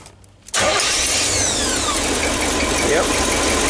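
A Chevy 350 V8 cranks and fires at once after a short quiet moment, then settles into a loud, steady idle that fills the rest of the clip with a constant close rumble.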